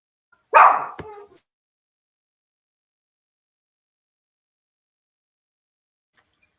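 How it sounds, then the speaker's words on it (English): A dog barks outside, one short loud bark followed by a brief tail, then a long silence and a couple of faint distant yips near the end. "they hear a dog outside"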